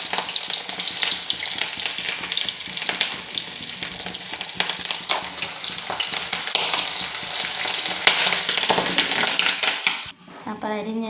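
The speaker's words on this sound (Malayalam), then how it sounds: "കുറച്ച് നല്ലെണ്ണ ഒഴിച്ചിട്ട് അതിലേക്ക് നമുക്ക് ഇഞ്ചിയും വെളുത്തുള്ളിയും ഒരു പച്ചമുളകും കൂടെ അതിനകത്ത് മൂപ്പിച്ചെടുക്കാം." Ginger, garlic and a green chili sautéing in hot sesame oil in a pan, a loud, steady sizzle with stirring scrapes that runs for about ten seconds before cutting off abruptly.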